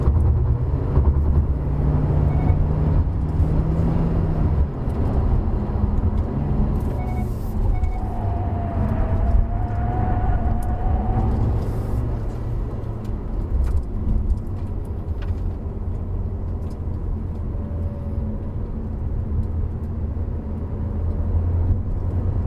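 A 2021 facelift Hyundai Kona 1.6 Turbo N-Line cruises steadily, its engine and road noise a constant low rumble heard from inside the cabin, with a faint passing whine midway and no talking.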